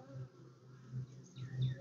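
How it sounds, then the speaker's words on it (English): Honey bees hum around an open hive during an inspection, close and quiet, with the buzz rising and falling as individual bees fly near. "there is a whole bunch of bees with orange pollen"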